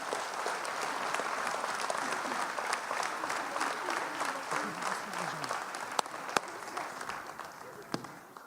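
Audience at a municipal New Year's greetings event clapping for two named men called up in a hall, continuous moderately distant applause with a few sharp claps and possible murmurs underneath.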